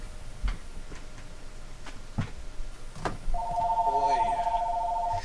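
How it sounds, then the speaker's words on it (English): A telephone rings with a steady electronic trill near the end, following some scattered clicks and knocks in a quiet room. "that's the phone ringing"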